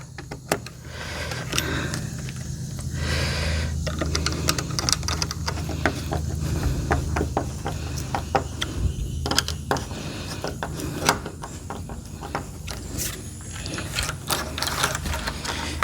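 Door fitting on a horse barn being tightened during door installation, a close run of rapid mechanical clicks and ratcheting ticks over a low hum, with occasional sharper knocks.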